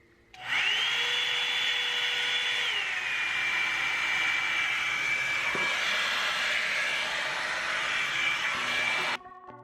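Revlon air dryer brush blowing hair dry, a continuous steady whine and whoosh of airflow starting abruptly, holding for about nine seconds, then cutting off.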